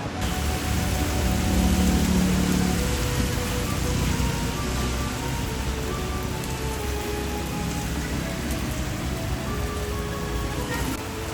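Rain falls steadily in Hanoi, a dense even hiss of drops on surfaces that continues throughout, with faint tones of background music underneath.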